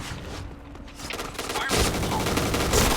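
MX4 gun firing in the Point Blank online shooter game, a rapid burst of automatic gunfire that grows louder and denser partway through, with faint game sounds underneath.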